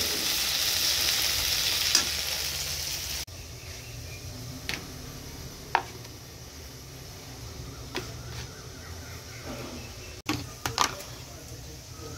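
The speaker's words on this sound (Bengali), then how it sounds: "এখানে হচ্ছে পেঁয়াজ আর কাঁচা লঙ্কা দিয়ে আলু উচ্ছে ভাজা" Potato and bitter gourd frying with onion and green chili, a steady sizzle in the pan with occasional scrapes and taps of a spatula, close by and moderately loud.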